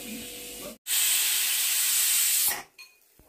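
A kitchen pressure cooker whistle releasing steam in a loud, sustained hiss for nearly two seconds, cutting off abruptly, with quieter household noise before and after.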